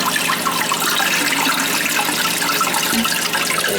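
Water rushing and draining from a toilet tank, a loud, close, continuous splashing gush that holds steady without pause.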